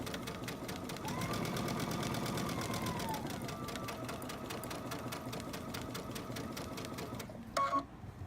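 Sewing machine stitching a tag onto a shirt, a steady fast mechanical whir with rhythmic ticking running throughout at a moderate, close level, briefly interrupted near the end by a small clunk.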